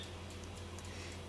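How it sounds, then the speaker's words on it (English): An oven ticks steadily in the background of a polymer clay work session, a faint, regular run of soft clicks under a constant low hum, with no talking. "you can hear the oven ticking in the background"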